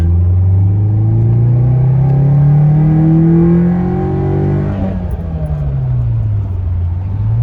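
A 1991 Nissan Sentra SE-R engine revs hard, its pitch climbing steadily through a long pull with the compressor off, then drops off and rises again at a lower, rumbling level.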